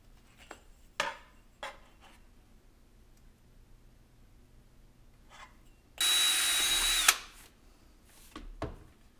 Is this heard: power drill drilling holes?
yes